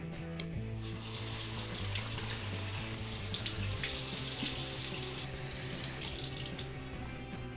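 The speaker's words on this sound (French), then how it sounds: "maintenant je dois juste me laver les mains" Tap water runs steadily into a sink while hands are washed, a continuous close splashing stream with no voices.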